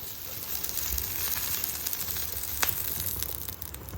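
Onions frying in oil in a kadai while kadai paneer is being made, giving a steady close sizzle with soft crackles and a few louder pops, no voices.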